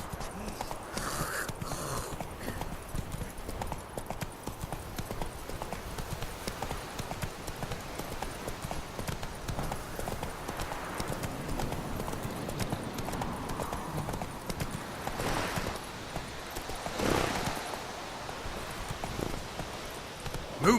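Roach, the horse in the video game The Witcher 3, gallops with a fast, steady clip-clop of hooves that keeps going throughout, with a few louder thuds and game background sound.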